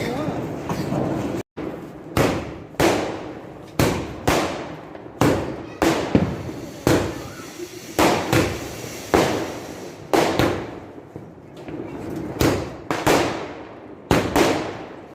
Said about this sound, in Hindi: एक मुझे ये वाले शॉट्स बहुत अच्छे लगते हैं जो आसमान में जाके एकदम आसमान को रंगीन कर देते हैं